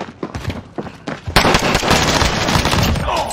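Rapid automatic gunfire in the first-person shooter Warzone on Rebirth Island, loud sharp bursts building into a dense sustained volley of close shots with cracks and impacts, no talking.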